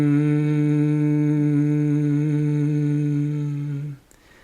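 A person hums on a steady, buzzing tone while breathing out slowly during a bee-breath exercise. The voice imitates a bee. The hum holds evenly for about four seconds, then stops.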